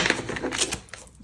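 Tarot cards being cut and shuffled, giving a soft, close run of papery riffling clicks and flutters that trail off over about a second.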